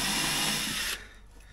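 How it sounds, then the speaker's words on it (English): A power drill bores a small pilot hole into the fiberglass hull of a 3D Tender XPRO 535 RIB, a steady close whine lasting about a second before cutting off to quiet room tone. "If you drill on fiberglass, it's always wise to drill a little pilot hole first,"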